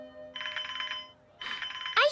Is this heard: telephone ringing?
yes